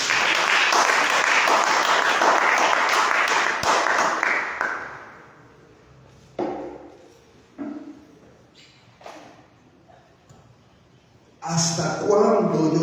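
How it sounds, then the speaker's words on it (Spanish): A church congregation applauds loudly and steadily for about five seconds during a Spanish-language sermon, then the clapping fades into scattered taps and quiet pauses before a brief burst of noise at the end. "Denle un fuerte aplauso a Él, iglesia."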